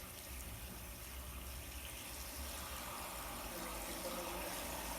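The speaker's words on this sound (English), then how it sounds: "The signal has been given to begin filling the plastic pool with water." Water pours steadily into a plastic pool in a photography studio, a continuous even gushing rush that holds for the whole stretch with no voices.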